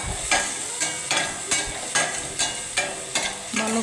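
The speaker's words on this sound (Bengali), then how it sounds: "এরপর আমি গ্যাসে তেল গরম করে মশলাগুলি ভেজে নিচ্ছি" Spices fry in hot oil in a pan on a gas stove for a Bengali chicken curry, with a steady sizzle broken by regular bursts of stirring, close and loud.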